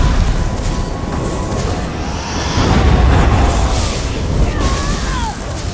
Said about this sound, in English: I like the spectral explosion